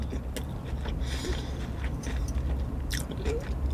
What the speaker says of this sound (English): Let's get in with the second bite.